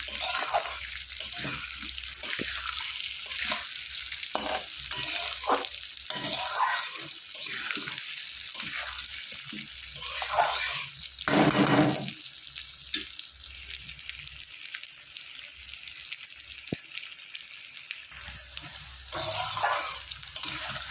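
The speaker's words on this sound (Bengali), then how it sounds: "ডাল তো আমি তেলের সাথে ভেজে নিলাম আলুর সাথে একসঙ্গে।" Mung dal and potatoes sizzle steadily in hot oil while a spoon scrapes and stirs the pan in repeated strokes, close and fairly loud throughout.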